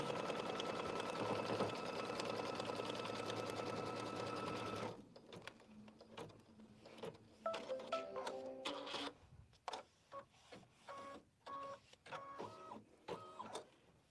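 A sewing machine stitches down appliqué fabric, a steady loud mechanical whir for about five seconds, then quieter intermittent bursts of stitching and clicks with pauses between.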